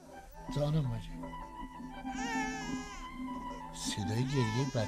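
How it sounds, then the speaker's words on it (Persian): An infant wails in repeated rising and falling bursts on an indoor drama set, loud and close, with adult voices sounding in between the cries. "صدای گریه بچه هست؟"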